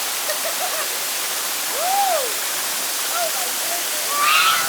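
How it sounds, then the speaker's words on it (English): A small mountain waterfall pours with a constant rushing hiss, fairly close, while a voice and brief whistle-like calls rise above the water. "A little waterfall action."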